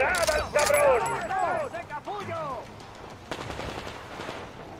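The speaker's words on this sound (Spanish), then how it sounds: "¡Venga, disparad al cabrón!" Rapid bursts of automatic gunfire from the video game Metro Exodus crack in tight clusters, then fade into scattered distant shots, while voices shout over the firing.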